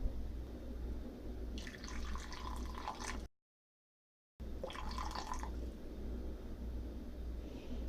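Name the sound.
warm water being poured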